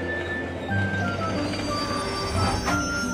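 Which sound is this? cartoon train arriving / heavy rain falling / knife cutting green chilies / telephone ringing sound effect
cartoon train arriving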